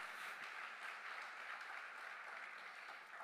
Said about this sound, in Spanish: Dele un fuerte aplauso a Él.